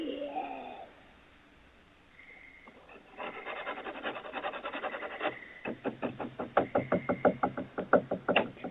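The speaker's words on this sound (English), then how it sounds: "they scratch and knock on the back door" Scratching and knocking on a house's back door, a dense run of rasping scrapes followed by a string of sharp, evenly spaced knocks that grow louder, with no talk.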